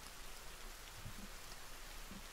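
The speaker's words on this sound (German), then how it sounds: "Manchmal, oh, geil, Wetter, Regen ist immer gut." Steady rainfall in The Forest video game, a soft, continuous hiss with a few faint low bumps and nothing else over it.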